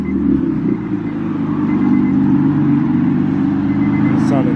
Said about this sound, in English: Pulling up in the J-Swap EF.